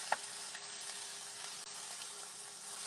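Carrots and bell peppers sizzle softly in a pan for chakalaka, a low, steady hiss with a small clink near the start, faint and with nothing else over it.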